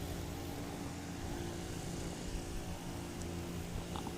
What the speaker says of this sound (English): Taxiing up now in the 2014 Cub Crafters SS.